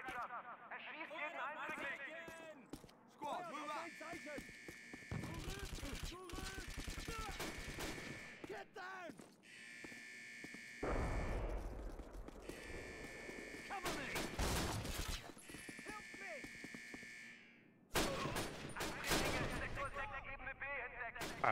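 Repeated bursts of gunfire and automatic weapon volleys in the Call of Duty: United Offensive castle assault in Sicily, loud and continuous with brief gaps, mixed with battle noise and a player voice talking over it.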